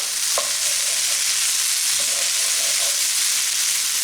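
Potatoes and corned beef frying in a hot pan give a steady, loud, close hiss of sizzling, with a few brief scraping stirs breaking through the constant crackle.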